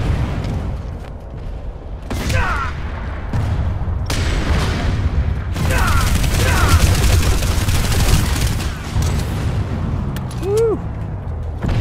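Gunfire in the video game Planetside 2 during a fight against a MAX unit, dense bursts of shots and booming impacts layered over continuous battle noise, loud and close.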